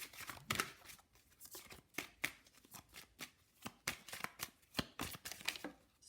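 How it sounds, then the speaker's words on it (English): Love oracle cards are shuffled in quick, uneven bursts of crisp riffling and slapping, close and fairly quiet, repeating steadily with no talking. "I am going to pull some love oracle cards for you."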